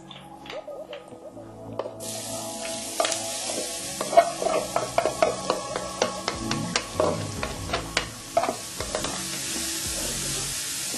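Oil starts sizzling loudly as carrots for borscht hit the pan, with steady frying hiss and scattered crackles and pops, plus occasional stirring clatter, no talking.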